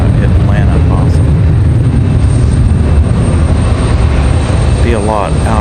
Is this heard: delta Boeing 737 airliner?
yes